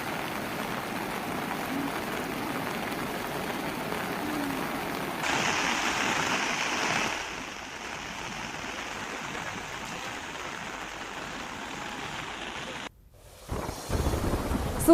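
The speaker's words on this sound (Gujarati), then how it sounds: "નદી બંને કાંઠે વહી રહી છે." Swollen Mohan and Veera rivers in flood after heavy rain, overflowing both banks, give a steady broadband rush of water that shifts in intensity partway through and drops briefly near the end, with no voices.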